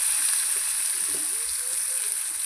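Potatoes fry in hot oil with dried chilli and radhuni seeds, producing a constant, fairly loud sizzle that holds steady throughout. A faint low murmur sits beneath it.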